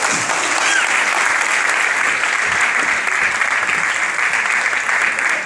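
An audience applauds at a ceremony honoring a man on stage, a dense, steady burst of clapping that holds loud and even throughout.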